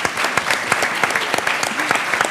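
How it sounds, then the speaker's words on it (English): Audience applause at a public forum on criminal justice, a dense moderately loud patter of many hands clapping continuously with sharper individual claps standing out. "And so you can applaud him."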